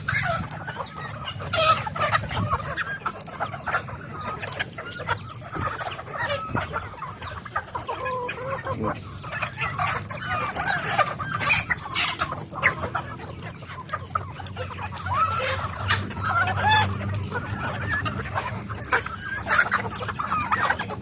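A flock of chickens, along with turkeys and ducks, clucks continuously at feeding time, many overlapping calls close by with occasional louder squawks and a distant crow.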